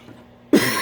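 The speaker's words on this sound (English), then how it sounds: "I'm sorry about the cough, and I got COVID." A single loud, sharp cough breaks a quiet room after half a second of near silence, then trails into a brief breathy rasp, from a person who says they have COVID.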